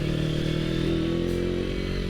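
Honda CB Tiger motorcycle with an MX 300cc big-bore engine riding at a steady, loud drone, the engine note holding even and close with a slight rise partway through.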